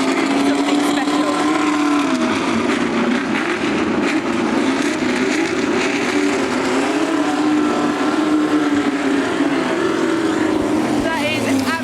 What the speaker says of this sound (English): Just take a look and a listen to these cars, they are truly something special.